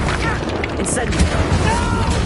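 Incendio fire spell cast in Hogwarts Legacy, a dense whooshing burst of flame layered with low booming rumbles and crackling impacts, loud and sustained across the moment with game ambience beneath.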